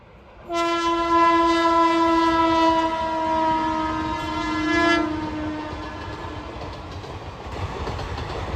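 A train horn blasts loudly for several seconds at a railway level crossing, then wheels rumble and clatter steadily as the train rolls past close by.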